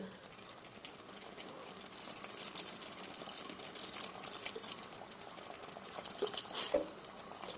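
Vinegar poured into fish pickle, a soft, uneven liquid trickle and gurgle close by, swelling in short bursts with light clinks.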